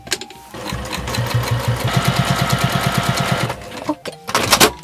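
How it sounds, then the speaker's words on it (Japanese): A sewing machine edge-stitches fabric beside a zipper on a remade boro-patchwork garment, running in a rapid, even, close stitching burst that starts, holds for a few seconds and stops, with handling clatter after. "ここ端ミシンかけときましょう。"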